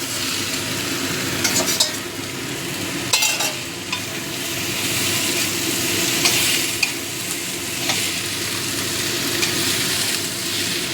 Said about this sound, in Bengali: শুটকিগুলো দিয়েও ভালো করে মিশিয়ে দিচ্ছি